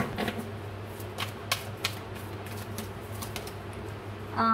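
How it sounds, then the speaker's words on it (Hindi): A tarot deck is shuffled close up, giving faint, irregular riffling clicks and snaps over a low steady hum, with a brighter burst at the very end. "मैं शफल कर लूँ पहले कार्ड्स को अच्छे से"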